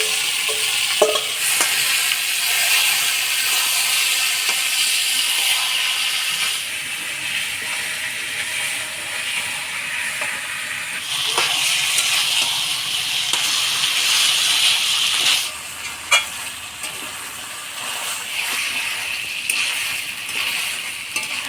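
Marinated chicken hits a pan of frying onions and chopped tomato for a Bengali kosha curry, a loud continuous sizzle with surging hiss and occasional clinks of stirring.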